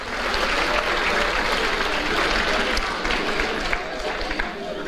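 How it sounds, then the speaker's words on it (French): An audience at a university graduation ceremony applauds continuously, a dense wash of many hands clapping at even loudness throughout, sounding fairly close and full. "Oui, on peut les applaudir."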